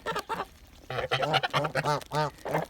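Geese and mixed-breed goslings of the Kholmogory breed calling close by, a run of repeated honking and nasal cries overlapping in quick succession.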